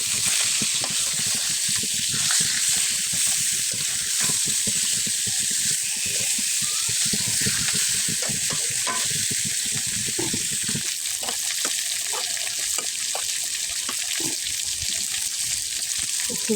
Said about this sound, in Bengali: এদিকে মাছ ভাজা বসিয়ে দিয়েছি